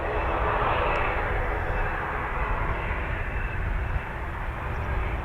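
A Eurofighter Typhoon jet at RAF Coningsby, a loud, steady roar of jet engines that holds for the whole stretch, rumbling near and heavy.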